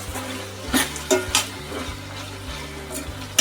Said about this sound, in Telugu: చింతపండు వేసుకొని ఒకసారి బాగా కలుపుకొని